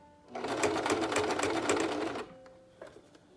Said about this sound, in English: I'm just going to sew, making sure that those pleats don't come undone.